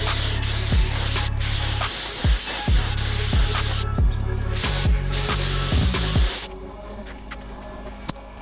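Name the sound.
spraying a coat of black-tinted clear coat paint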